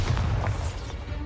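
A Bombarda spell explosion in a Harry Potter-style video game lands as a deep, rumbling boom that fades over about a second, loud and close.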